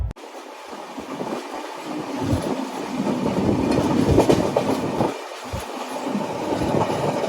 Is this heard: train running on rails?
yes